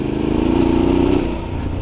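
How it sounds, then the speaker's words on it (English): A Suzuki V-Strom 650XT motorcycle fitted with a new Delkevic muffler, its loud, close exhaust throbbing in a steady rapid pulse, riding out in the Missouri Ozarks woods. "You hear my new Delcovic muffler on this"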